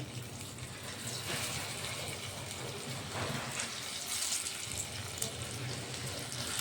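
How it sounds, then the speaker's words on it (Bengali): Jackfruit seed kofta balls lowered into hot oil in a kadai, giving an even, fairly quiet sizzling hiss that carries on steadily with faint spatters and no speech. "তেল গরম হয়ে গেছে এখন আমি আস্তে আস্তে দিয়ে দেবো এগুলো তেলের মধ্যে"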